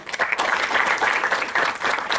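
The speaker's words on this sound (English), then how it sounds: "Can we have a round of applause for everyone again?" An audience applauds at a community lecture on food wastage, with dense, steady clapping from many hands filling a hall for a couple of seconds.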